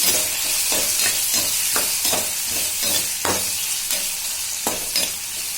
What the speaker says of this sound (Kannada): ಗರಂ ಮಸಾಲ, ಚಾಟ್ ಮಸಾಲ ಎಲ್ಲದು ಸ್ವಲ್ಪ ಹಾಕಿ ಫ್ರೈ ಮಾಡ್ಕೊಳ್ಬೇಕ್ರಿ